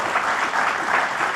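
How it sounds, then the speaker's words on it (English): Brief, steady applause from an audience at a rural communities event, a dense wash of clapping holding level throughout. "I always like to encourage the clapping."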